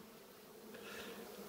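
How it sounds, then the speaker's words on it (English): Honey bees buzz inside a hive room during a Michigan midwinter, a close, continuous insect drone that swells a little louder partway through. "But inside this room, I got to deal with all the bees."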